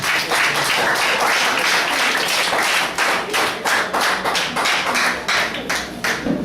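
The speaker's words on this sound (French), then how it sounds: "On va t'applaudir" A group of people clapping together, loud, close and fairly rhythmic, with sharp individual hand claps standing out in a steady pulse.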